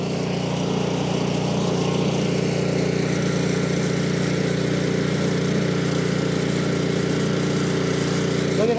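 A surging snow blower engine runs at half choke, a steady, close mechanical drone that holds at an even level throughout.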